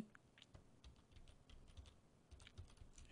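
Quiet typing on a computer keyboard, a steady patter of light key clicks with brief pauses over about three seconds, close and soft with no voices.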